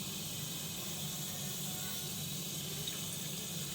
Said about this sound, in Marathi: आणि हा स्वच्छ धुवून घ्यायचा आहे